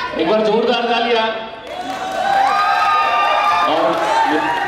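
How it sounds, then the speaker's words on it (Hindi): An audience at a trailer launch event applauds and cheers, with a broad steady wash of crowd noise under a loud voice speaking over a microphone throughout. "एक बार जोरदार तालियां।"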